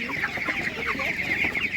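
A crowd of broiler chickens at a Ukrainian livestock market keeps up a continuous, busy clucking, close and even in level, with no talk over it.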